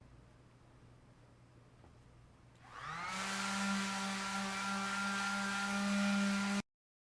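Palm sander fitted with 120 grit sandpaper spinning up on painted wood and whirring steadily and loud nearby for a few seconds before stopping abruptly.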